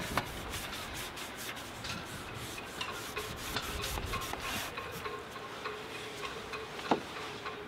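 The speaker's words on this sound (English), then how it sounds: "What I might do is just rub the vinegar over the bicarbonate area." A cloth steadily rubs vinegar over bicarbonate on old boat gelcoat. The soft, continuous scrubbing has faint ticks and light knocks scattered through it.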